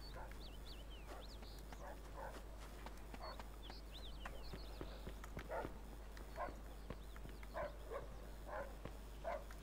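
Dogs bark repeatedly in Mafia II, a string of short, fairly distant barks spread across the clip over low background hum, with faint talk in between.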